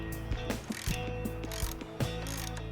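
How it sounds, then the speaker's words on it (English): A ratchet clicking as it breaks loose the top shock bolt on a Kawasaki KLR650, with several quick close-up pawl clicks in an uneven rhythm and no talking. "When you've done that, go ahead and break that bolt loose"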